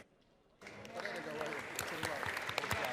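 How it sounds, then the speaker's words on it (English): Applause from those present in a state legislative chamber for high school NJROTC cadets and instructors, starting abruptly after a quiet moment and swelling into steady, dense clapping with scattered sharp claps. "Please join me in applauding"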